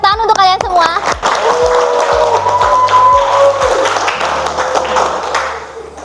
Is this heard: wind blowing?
no